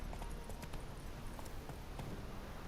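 Hooves of Roach, a horse in Witcher III, clip-clopping in a steady trotting rhythm, faint beneath a constant broad ambient hiss.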